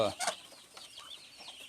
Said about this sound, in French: Regardez les petits canards.